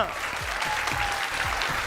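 Studio audience applause on a Punjabi game show, steady dense clapping that fills the whole moment without a break, loud and close, with no voices over it.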